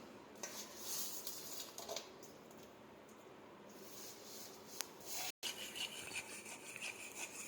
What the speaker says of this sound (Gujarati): ગોળ બરાબર ઓગાળીને આ રીતે આપણે ગોળ ઘીનો પાયો કરી લઈશું.